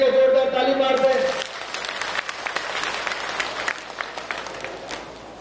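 A crowd at an outdoor political rally in Haroli, Una, claps loudly and steadily after someone speaks over a sustained tone, the sharp claps carrying on for several seconds.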